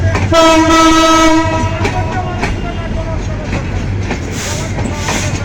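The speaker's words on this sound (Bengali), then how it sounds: "এখনই ট্রেনটি স্টেশন থেকে ছেড়ে চলে যাচ্ছে" A long train's horn blares loudly with a long tone, then fades into the steady rumble and clatter of the train departing the station.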